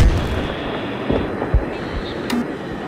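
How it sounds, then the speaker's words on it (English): Bombs dropped on a target in the video game Battlefield 3 make dull, low booms under a continuous rumbling engine drone, with a faint voice briefly audible. "Bombs away. On target."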